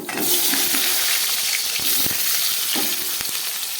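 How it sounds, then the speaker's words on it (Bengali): Potatoes drop into hot oil, already used to fry pointed gourd, and set off a loud, continuous sizzle and crackle close by, with a few sharper pops. "এই তেলের মধ্যেই আমি দিয়ে দিচ্ছি আলু"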